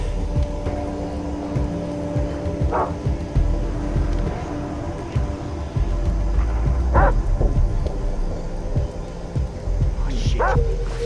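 Dog in the video game Far Cry 3 letting out three short barks or yips spaced several seconds apart, over continuous game ambience and low rumbling.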